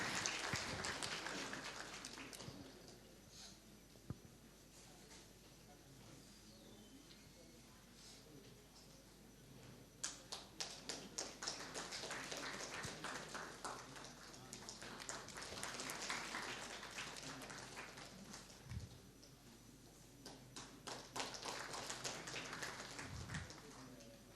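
An audience at a tax conference hall claps in scattered, uneven bursts that swell and fade several times, with a voice talking over the crowd in places.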